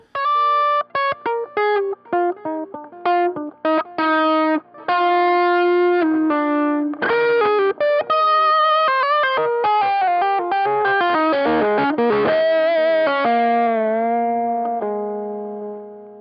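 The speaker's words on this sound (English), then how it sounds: "even when you got the Klon going on, it's a little bit of a unruly, raunchy sound." Electric guitar through a Dumble amplifier with a Klon overdrive plays a raunchy, slightly unruly lead line of rapid notes and bends, then sustains a final note that slowly fades.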